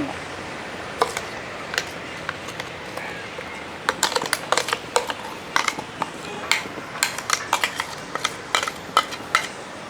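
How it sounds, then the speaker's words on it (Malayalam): A spoon clinks and scrapes against a pan as coconut paste is stirred into a potato curry on low heat, with irregular sharp taps growing busier over a soft background hiss. "അപ്പം തീ കുറച്ച് വെച്ചതിന് ശേഷം നമ്മൾ അരപ്പ് ചേർത്ത് ഇനി ഒന്ന് ഇളക്കി കൊടുക്കും"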